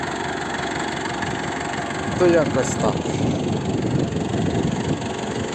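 A tractor engine runs steadily while harrowing a sunflower field, a continuous mid-pitched drone and vibration under a man's speech, with a brief louder surge partway through.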